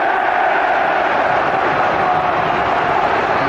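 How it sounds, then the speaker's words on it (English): A packed football stadium crowd at Liverpool v Barcelona in the 2001 UEFA Cup semi-final second leg, a loud unbroken roar of massed voices filling the whole stretch. "The noise is deafening, and the crowd have been absolutely fantastic"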